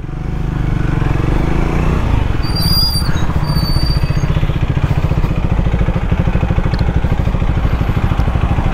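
Triumph Speed 400 motorcycle idling with its radiator fan whirring, a steady close rhythmic low engine pulse with a faint hiss of fan air throughout, alone without talk.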